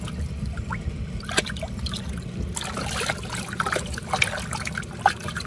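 Alligator belly hide is rubbed, rolled and squeezed by hand in oak bark tea water, giving close, steady wet sloshing and trickling with irregular splashy drips and squelches throughout.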